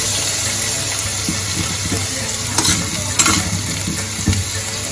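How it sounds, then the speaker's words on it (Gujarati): Potatoes stirred and roasted in a pan for a fasting-style dry aloo dish, giving a steady close sizzle broken by scraping stirs and a few sharper clinks of the spoon against the pan. "હજી તેને આપણે આ રીતના સતત હલાવતા જ રહીશું અને શેકી લેવાના છે."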